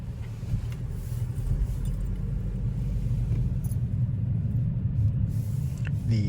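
Inside a 2021 Toyota Corolla SE pulling away and driving, a low steady engine and road rumble fills the cabin, with faint rattles and small clicks over the continuous drone.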